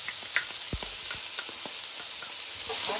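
Vegetables sauté in vegetable oil for spring rolls, a steady close hiss of frying with several sharp crackles and spatters scattered through it and no talking.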